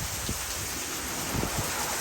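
A thunderstorm lashes St. Charles, Missouri, with heavy rain and strong wind gusts, making a dense, continuous roar of pouring rain and buffeting wind close to the microphone.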